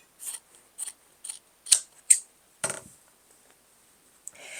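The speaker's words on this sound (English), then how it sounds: "So for this, I'm just going to cut it right there." Scissors cut fabric scraps in a handful of short, crisp snips, close and separated by brief pauses, followed by a softer rustle of the material.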